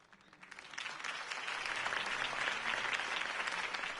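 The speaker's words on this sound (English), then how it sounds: "could have heard that applause" Video game crowd applause swells from a soft start into sustained, steady clapping from many hands.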